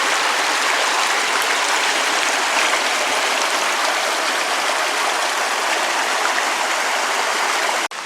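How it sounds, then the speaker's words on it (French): Rain falls steadily in the woods at a campsite, a dense, even hiss of drops on leaves and ground that holds nearly constant throughout, with no voices. "Bon, il se met à pleuvoir."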